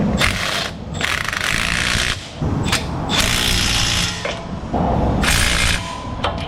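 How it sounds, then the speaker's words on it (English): An extended gear wrench ratchet tightens a bolt in an auto repair shop, its pawl clicking in rapid bursts of repeated strokes with short pauses between, close and loud. "since I had to loosen it with this extended gear wrench ratchet, I'm going to tighten it with it"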